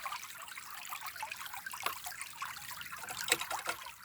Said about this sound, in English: Let it just sort of drain for a minute.